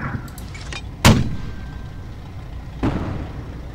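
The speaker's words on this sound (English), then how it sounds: "cease fire on the mortars" Two deep booms of mortar fire in the tactical shooter game Project Reality, a loud close thump followed about two seconds later by a softer one, over a low steady rumble.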